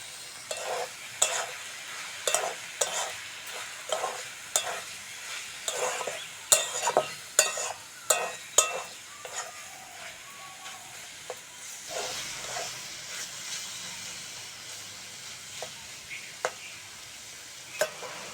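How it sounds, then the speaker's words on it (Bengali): Leafy greens (shak) crackle and sizzle in a hot pan, with a spatula scraping and stirring in uneven strokes, close and moderately loud with no voices. "শাক ভাজা হয়ে গেছে, নামিয়ে নেব।"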